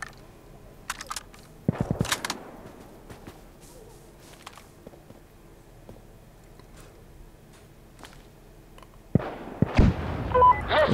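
Gunshots in the tactical shooter Insurgency Sandstorm on the Farmhouse map in Push mode: sharp cracks in short bursts, a volley near the start and another heavier burst at the end, with quieter distant reports between.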